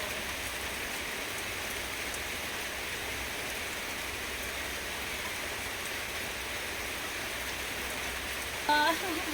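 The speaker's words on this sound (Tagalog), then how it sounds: "I like to be under the rain." Rain falls steadily in a continuous soft hiss of drops hitting surfaces, faint and even throughout, with a brief voice near the end.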